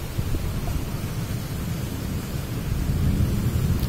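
Low rolling thunder rumbles through steady rain, a continuous, fairly loud growl that swells toward the end, with no voices.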